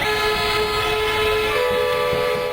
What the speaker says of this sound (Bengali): সব ধরনের যানবাহনে 1 মিনিট হর্ন বাজিয়ে এই প্রতিবাদ